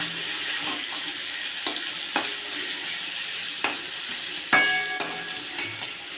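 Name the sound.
salted turmeric potato pieces frying in fish oil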